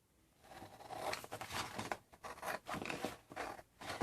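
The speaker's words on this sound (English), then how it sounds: "I'm just gonna use my scissors." Scissors snip through a paper file folder in a series of close, rapid crisp cuts and rustles, with a few short pauses, no talking.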